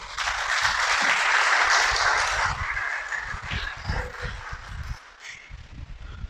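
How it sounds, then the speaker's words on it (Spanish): Applause from a congregation at a Yom Kippur closing service swells loudly at first, then fades into scattered claps and low thumps. "Dale un aplauso a él"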